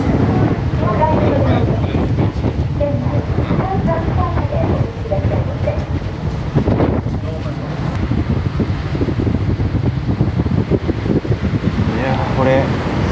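Sightseeing boat cruising at speed off Toba, Mie, a loud steady engine drone mixed with rushing wind and water noise, close and continuous, with voices talking over it.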